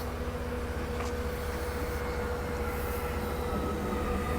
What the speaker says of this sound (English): airport line train coming in here